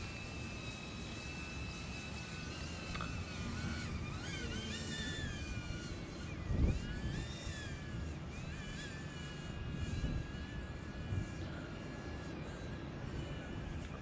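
A DJI Avata FPV drone flies outdoors, its faint, continuous propeller whine shifting in pitch as it moves, with steady background noise and a soft thump midway.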